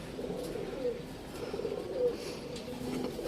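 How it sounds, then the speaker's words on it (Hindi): A Teddy pigeon perched outdoors coos repeatedly in low, soft, steady phrases, fairly close, over a continuous background murmur. "टैडी कबूतर बैठा है किसी का"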